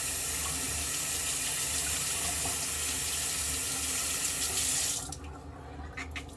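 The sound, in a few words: rinsing a synthetic shaving brush under a running tap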